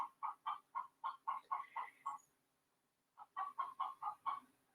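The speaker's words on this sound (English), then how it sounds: "Maybe you can hear my chickens." Chickens cluck in quick, evenly spaced bursts, a run of about ten, a short pause, then another run, faint and somewhat distant with no talking.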